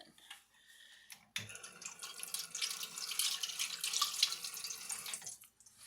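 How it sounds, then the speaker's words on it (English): Tap water runs into a kitchen sink during hand washing while cooking, a faint trickle at first, then a louder steady splashing stream that fades as the tap shuts off. "Wash at the sink."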